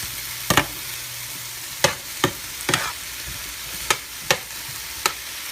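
Food tossed in a hot pan to coat it, a steady sizzle punctuated by about seven sharp scraping tosses at irregular intervals, close and loud with no talking.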